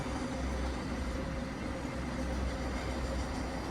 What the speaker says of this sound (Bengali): ট্রেন যাচ্ছে হয়তো।